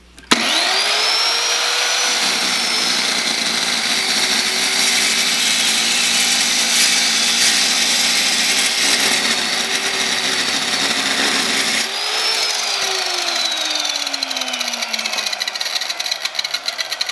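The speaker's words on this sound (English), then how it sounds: "I want to go ahead and try it with something a little bit beefier and see how it'll hold up to some 2-inch tubing with" A Trajan Q700 7-inch chop saw slices through 2-inch steel tubing with a 1/8-inch wall: the motor whines up, grinds loudly and steadily through the cut, then spins up again briefly and winds down.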